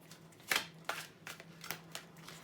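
Tarot cards being shuffled by hand in a quiet room, a few distinct riffling bursts and soft flicks at irregular intervals, close and fairly faint.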